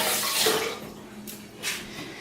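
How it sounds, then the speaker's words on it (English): Water runs from a kitchen tap as an eggshell is rinsed under it, a close, steady splashing gush that swells at the start and again briefly near the end. "Let me rinse off this eggshell."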